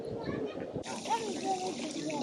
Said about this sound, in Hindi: ये जो मेरे पीछे है ये एक वाटर फाउंटेन है